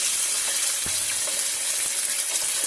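Chicken pieces frying in a pan for chicken cacciatore, a steady close hissing sizzle with a brief soft clink partway through, no talk.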